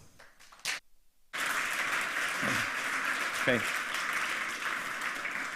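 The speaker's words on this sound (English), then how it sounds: "Give a warm applause" An audience at a hacker conference talk claps steadily and warmly for the speaker after a brief spoken word, the applause continuing to the end.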